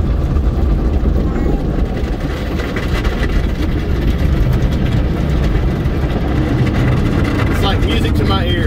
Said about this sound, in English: Music to my ears, all these car wash noises.